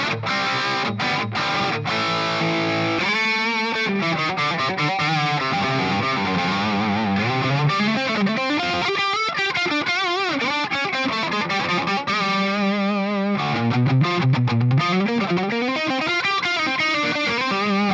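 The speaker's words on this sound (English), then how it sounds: "So this is the sound of my Plexi." A distorted electric guitar sounds through the Plexi amp model on a Hotone Ampero II Stage, steady and loud, moving from sustained chords into melodic single-note phrases and bends with no talking.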